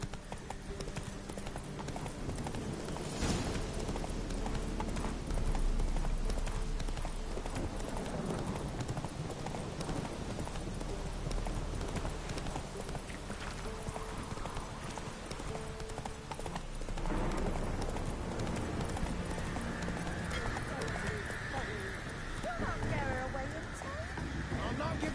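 Hoofbeats of the horse Roach in The Witcher 3, a long steady run of clip-clopping close up, mixed with wind and game ambience, with someone talking over parts of it.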